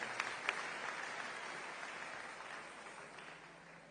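Church congregation applauding the choir at a worship service, a dense sustained wash of clapping with a couple of sharper claps near the start, gradually thinning and fading toward the end.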